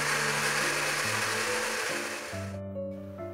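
An electric kitchen blender runs loud and steady, grinding chili peppers with turmeric and spice paste, its motor pitch stepping down and shifting as the load changes, with no talk.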